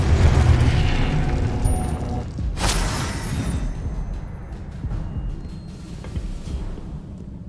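A Confringo fire spell blasts in Hogwarts Legacy, a loud booming burst with a sharp crack near the start that fades into a rumbling, crackling tail over the following seconds.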